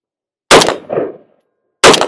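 Two loud, sharp rifle shots from a re-barreled JRA Gallant Galil ARM, each ringing off a steel target about 50 yards away, with a fainter metallic ping after the first report and a quiet gap between the shots.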